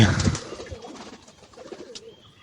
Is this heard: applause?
no